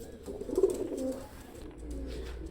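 An Oman Teddy pigeon coos nearby in soft, low, rolling phrases, one fuller call followed by a quieter murmur against light room noise.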